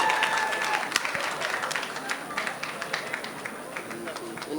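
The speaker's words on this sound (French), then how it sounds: "Est-ce qu'on peut applaudir très fort pour Emmanuel?" Wedding reception guests applauding at an evening dance party, a steady wash of many hands clapping at moderate distance with a few louder claps near the start.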